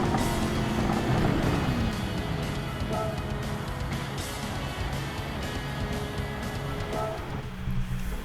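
Race car engine accelerating on the Nürburgring Nordschleife in Gran Turismo 7, a continuous droning motor with rising pitch sweeps as it pulls through the gears, moderately quiet and steady throughout.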